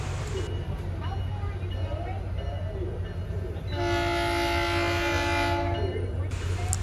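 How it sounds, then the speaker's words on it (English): Passenger train P315, led by cab car 2001, rumbles past with a steady low roar and clatter, a horn sounding in the middle of the pass, heard from close by. "Here's our train, P315 with cab car 2001."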